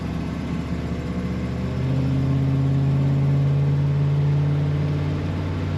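A 1961 Chevrolet Impala two-door hardtop gives off a steady, low, droning exhaust rumble while driving. The rumble swells slightly as the engine builds, heard alone and up close.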